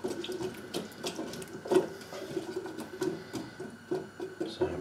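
Tap water runs steadily into a pot to just cover potatoes for a courgette, bacon and cheese soup, a close, uneven splashing stream with faint background chirps.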